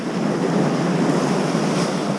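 Ocean waves and surf breaking against coastal rocks, a loud continuous wash of roaring water and wind noise with no voices.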